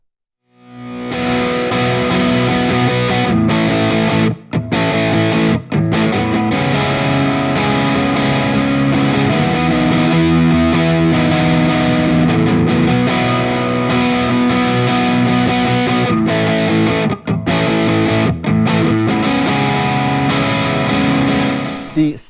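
A 2021 PRS Custom 24 Wood Library electric guitar with 85/15 pickups, through heavy distortion and effects, rings out loud and sustained, with chords and notes blending continuously and brief cut-offs between phrases.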